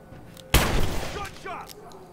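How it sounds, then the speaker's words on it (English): A gunshot in a video game, one sharp loud blast followed by a rumbling echo that fades over about a second, with faint voices in the background. "Gunshot!"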